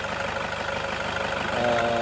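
A Toyota Innova diesel engine idles steadily after running for a while, its even, knocking rumble continuous and close.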